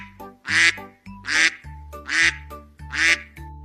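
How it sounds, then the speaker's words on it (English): A duck quacks four times in a steady, evenly spaced series, each quack loud and nasal over a light musical background. "I'm a duck."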